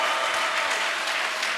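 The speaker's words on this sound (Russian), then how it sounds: "Я хотел, чтобы вы под бурные аплодисменты пригласили ее." A church congregation bursts into dense, steady applause, many hands clapping together at close range throughout.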